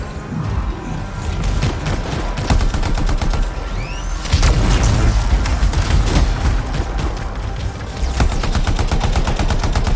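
Dense gunfire from the Anthem video game, with loud continuous rattling bursts and overlapping shots that keep up a steady barrage, punctuated by heavier booms.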